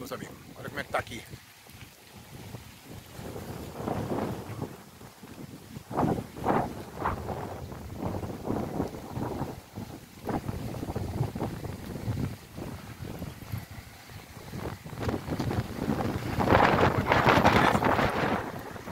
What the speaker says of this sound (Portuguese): O vento tá forte, viu?